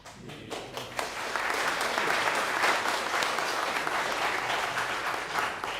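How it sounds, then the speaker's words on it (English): Dense, sustained applause rises from the public gallery of a parliament chamber during a member's inaugural speech, swelling quickly into a steady wash of many hands. "I'm just going to ask members in the gallery, it's not appropriate to be clapping."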